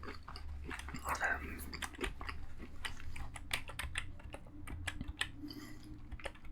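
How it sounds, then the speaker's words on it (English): Rapid, uneven clicking of fingers typing on a computer keyboard, close and crisp, in short bursts with small pauses between. "I like to use the keyboard because, ASMR keyboard sounds."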